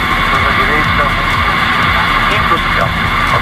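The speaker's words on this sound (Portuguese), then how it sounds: "Mais uma decolagem aqui no aeroporto de Sorocaba." A Cirrus SR22 light airplane takes off at Sorocaba airport in Brazil, its engine a loud, steady, continuous drone with broadband roar and no pauses.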